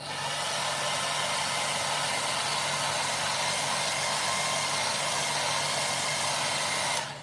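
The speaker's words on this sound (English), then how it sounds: "I need to get the hairdryer on that one" A hair dryer blows steadily at close range, a constant loud whooshing hum that runs the whole time before cutting off at the end.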